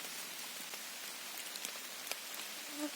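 Steady light rain falls outside, giving an even, soft hiss with faint scattered drops and no voices.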